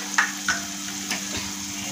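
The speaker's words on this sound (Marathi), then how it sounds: "तेल सुटेपर्यंत आपल्याला मसाला हा तळून घ्यायचा आहे।" Masala spices frying in hot oil for dhaba-style dum aloo, a soft steady sizzle with a couple of brief stirring scrapes near the start, close and alone.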